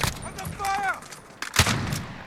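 Two sharp, loud SR-25 rifle shots crack out in Call of Duty Modern Warfare, the second louder and nearer, with a voice briefly talking between them.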